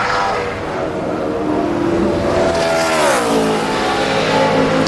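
A NASCAR Sprint Cup race car engine roars steadily at high revs during a qualifying lap at Michigan International Speedway, its pitch sweeping down and back up as the car passes, with a distant sustained drone throughout.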